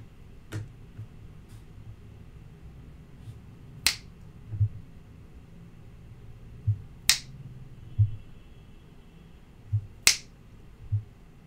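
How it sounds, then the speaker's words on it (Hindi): Fingers snap to trigger an LED circuit fitted with a sound sensor, several crisp isolated snaps spread apart in a quiet room, close and distinct against a low background hum. "जब मैं कोई आवाज़ करूँगा जैसे चुटकी बजाऊँगा तब ये सर्किट ऑन होगा"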